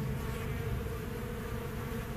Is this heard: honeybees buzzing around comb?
yes